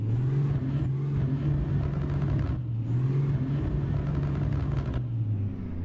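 A Freightliner Classic XL truck in a video game revs its engine, a loud low drone that rises and falls in two long surges, with a high whine on top and a brief dip between them.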